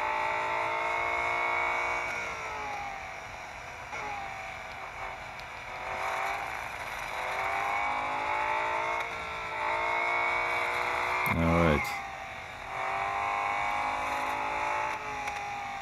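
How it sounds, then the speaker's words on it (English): A BMW M4 racing in a video game gives a steady, muffled engine drone from the cockpit view, rising and falling through gear changes with a brief thump partway through. "That muffled engine sound."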